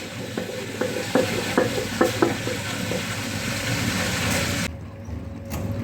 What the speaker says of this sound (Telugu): ఇప్పుడు మినపప్పు బియ్యము అటుకులు వేసినవి పప్పు నానినాయి నాలుగు గంటలు ఇప్పుడు పిండి వేసుకుందాం